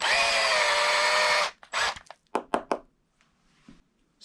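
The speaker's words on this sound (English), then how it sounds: "Step 2 is uniforming the primer pocket." A power tool whirs steadily for about a second and a half while uniforming the primer pocket of a 6.5 PRC rifle case, then stops, followed by a few short clicks and taps of handling the brass.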